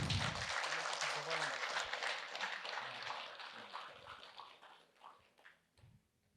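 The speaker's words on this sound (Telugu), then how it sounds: "ఒకసారి ఈ కిచెన్ టీం గట్టిగా చప్పట్లు కొడదాం మనం" An audience claps loudly and steadily for a kitchen team at a meditation gathering, and the applause thins into scattered claps with a voice speaking at the end.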